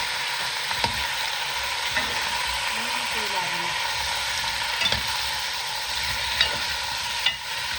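Food sizzles steadily in a pan for the whole stretch, with a few sharp scraping clinks of stirring and a faint voice murmuring briefly in the background.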